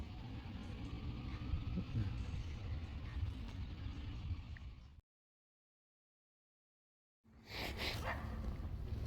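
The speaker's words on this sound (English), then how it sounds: "Next one comes that big dog again." A big dog barks out in the open during a metal detecting outing, several deep barks over a steady background rumble, cut by a stretch of silence before the noise resumes.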